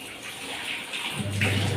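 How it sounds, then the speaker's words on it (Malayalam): Hot water pouring into a bucket, a steady broadband rush that grows louder and fuller near the end as the bucket fills, heard alone without talk. "ബക്കറ്റ് നിറയട്ടെ, വെള്ളം ചൂടായി വരുന്നുണ്ട്"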